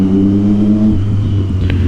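A loud Triumph Street Triple superbike exhaust rumbles close by on a street, a steady low drone that shifts pitch partway through before a brief sharper burst near the end.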